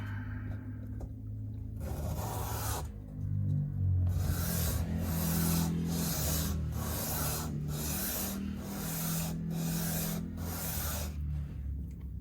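80-grit sandpaper rubs back and forth on a guitar bridge from a Squier Strat, a close, rhythmic scratchy rasp with regular strokes under a low background hum.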